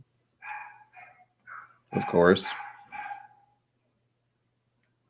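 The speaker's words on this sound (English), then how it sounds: "That was a dog." A dog barks a few times nearby, heard from a first-floor room, with the barks partly overlapping a person talking.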